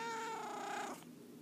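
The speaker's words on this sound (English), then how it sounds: "That's my cat." A house cat lets out a single drawn-out meow, close and clear, ending abruptly partway through, with no one talking.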